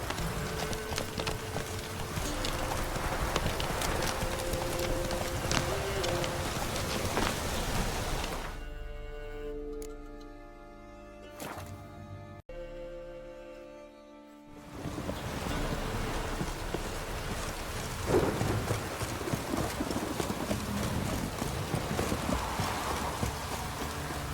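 Horse hooves clip-clop at a steady gallop in The Witcher 3: Wild Hunt over continuous wind and surf, with a quieter stretch partway through before the galloping returns at full loudness.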